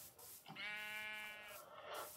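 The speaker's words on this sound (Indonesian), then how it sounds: "Ah, itu ada domba." A sheep bleats once in the video game Minecraft, a single drawn-out wavering bleat that sounds fairly close and clear over a soft background hiss.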